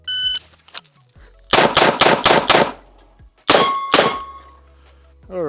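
A Smith & Wesson 586 L-Comp revolver fires a quick string of five sharp, loud, ringing shots in close succession, followed by two more after a pause, each crack decaying with metallic ring.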